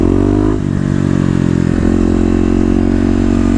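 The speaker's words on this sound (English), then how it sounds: "I can get the front wheel up now in second gear" A Kawasaki KLX250 fitted with a 13T sprocket, lifting its front wheel in second gear, gives a loud, close single-cylinder engine drone that dips and then climbs back under throttle.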